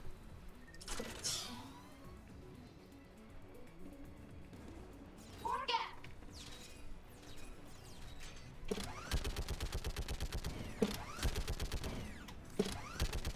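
Geth turret gunfire in the video game Mass Effect 3: a rapid, even stream of mechanical shots in the later part, after quieter game sounds and talk, moderately loud.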